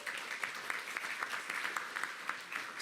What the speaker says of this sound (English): If we can get a round of applause for them